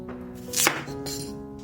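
A knife cutting sliced radish into small pieces on a board, with a few close crisp chops and one brighter sharp strike in a short quiet moment.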